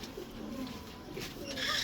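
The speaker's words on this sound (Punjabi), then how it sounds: "ਇਹ ਚੈੱਕ ਕਰੋ ਫੁੱਲ ਮੇਨਟੇਨਡ ਕਬੂਤਰ ਜਨਾਬ।" Pigeons cooing in a breeder's loft, a couple of soft low coos close by over light background noise.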